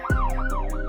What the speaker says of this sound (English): It has flashing lights and a loud siren.